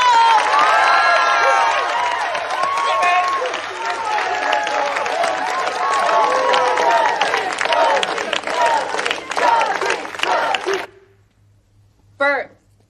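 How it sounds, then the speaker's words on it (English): A studio audience claps and cheers loudly and continuously for about eleven seconds, a dense roar of applause and shouts, then it cuts off abruptly to near silence with a brief final burst near the end. "I want you to clap real loud, have a good time."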